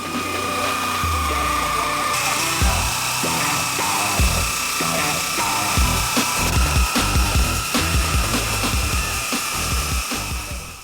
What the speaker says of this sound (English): the factory roof needs to be cut away with pneumatic shears